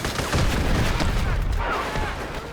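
Dense, continuous gunfire from the shooter game Delta Force, with rapid overlapping shots and booms forming a loud, unbroken barrage.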